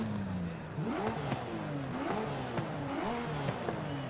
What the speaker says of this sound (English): The way it revs so high is crazy.